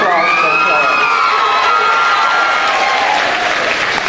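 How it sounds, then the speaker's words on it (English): A large crowd at a high school commencement for the class of 2023 bursts into loud, sustained clapping mixed with whoops and high-pitched cheers and shrill whistles, dense and close throughout. "Let's give a round of applause for the class."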